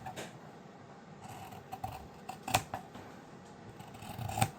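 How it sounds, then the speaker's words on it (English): Scissors trim excess fabric from a sewn frog, with a few crisp snips, the sharpest near the end, over a quiet room hiss and without speech. "So now we're just going to cut this excess off"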